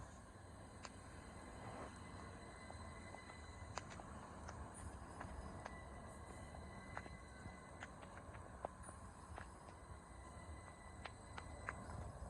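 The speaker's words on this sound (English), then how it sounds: "here we have the 1129 1G57 Southeastern service from London Cannon Street now to Ramsgate" A steady low rumble of a Southeastern passenger train led by class 37 locomotive 37584 passing Gillingham, with faint rhythmic clicks and rattles of wheels over track, moderately distant and continuous.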